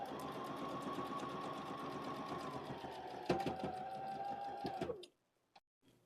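A domestic sewing machine runs steadily, stitching fabric for a wallet in a continuous whirring, mechanical hum for about five seconds before stopping, followed by a couple of faint clicks.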